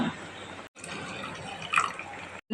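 Thick coconut milk pours into a pot of fenugreek porridge with a continuous liquid splash and trickle, broken by two short gaps, close and moderately loud.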